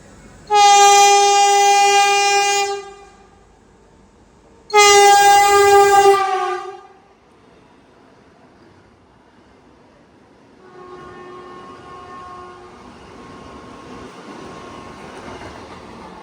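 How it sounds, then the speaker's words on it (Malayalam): A Vande Bharat Express train on the Chennai to Coimbatore route sounds two loud, blaring horn blasts nearby, followed by a fainter, more distant horn tone and the rumble of the passing train. "ചെന്നൈയിൽ നിന്ന് കോയമ്പത്തൂർ വന്ന് വന്ദേ ഭാരത് എക്സ്പ്രസ് ആണ് ഇപ്പോൾ പോയത്. എൻ്റെ ചെവി അടിച്ചു, അമ്മാതിരി ഹോണാണ് അടിച്ചത്."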